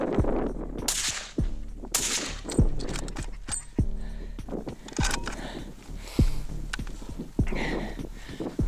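Sharp gunshot cracks ring out at irregular intervals across an open outdoor setting, several loud reports echoing over quiet wind and handling noise.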